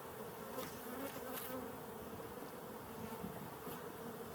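Honeybees drone in a dense, continuous hum inside an open hive as a frame is checked, steady and close without pause. A few louder buzzes pass near, and no one speaks.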